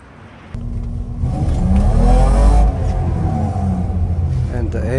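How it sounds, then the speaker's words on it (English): A BMW E30 325i with its M20 B25 six-cylinder engine, started after sitting three years, turns over and catches, then revs up into a loud, steady, close rumble that dips and rises again. "And the engine is alive again."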